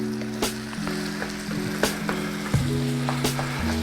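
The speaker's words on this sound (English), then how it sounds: "You're just browning your meat." Ground turkey browning in a pan for tacos, a steady close sizzle with a few sharp utensil clicks and stirring scrapes, no talking.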